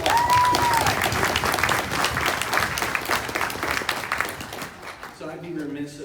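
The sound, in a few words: audience applause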